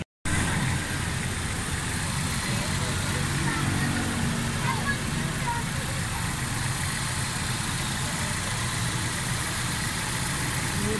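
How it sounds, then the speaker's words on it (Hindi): A 2007 Honda City automatic idles after a head gasket change and tappet clearance adjustment, a steady, even engine hum running continuously and fairly loud after a brief silent start. "गाड़ी स्टार्ट कर दी है, बिल्कुल एक्यूरेट है"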